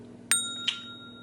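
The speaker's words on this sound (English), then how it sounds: "smash that notification bell" A notification bell sound effect: two quick bright metallic dings, the first sharp and louder, the second softer with a ringing tail, close and alone.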